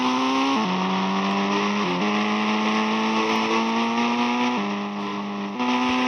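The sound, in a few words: military vehicle driving in Indian bike simulator video game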